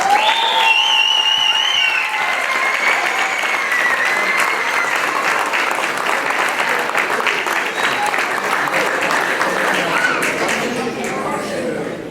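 Steady applause from a graduation ceremony crowd for HiSET graduates at QCC, holding loud and even for about twelve seconds before easing slightly, with a few voices briefly audible at the start.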